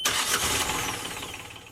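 A boat's inboard engine, fed raw water from a bucket in a boat yard, cranks and catches, settling into a loud, close, steady running rumble with no voices.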